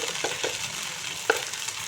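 Spice paste of cumin, coriander, fennel, ginger and green chilli frying in a pan, a steady close sizzle broken by a few scraping stirs and one sharp utensil knock.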